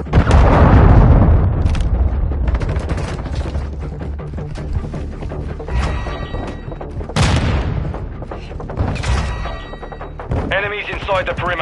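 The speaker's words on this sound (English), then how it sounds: "Friendly cruise missile deployed." Friendly cruise missile strike in a first-person shooter game, a heavy booming blast followed by rumbling impacts and further thuds, loud and dense, with a voice announcing over the game noise.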